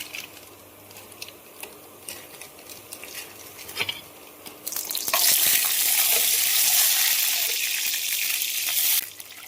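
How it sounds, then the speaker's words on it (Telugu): Dried red chillies dropped into hot oil with chana dal, a soft crackle that bursts into a loud, bright sizzle for several seconds before cutting off abruptly. "కొంచెం వేగిన తర్వాత ఎండుమిర్చి వేసుకుంటున్నాను"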